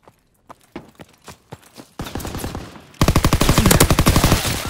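A combat shotgun fires in a video game, with sparse single blasts at first that speed up into loud, rapid, evenly spaced rhythmic bursts.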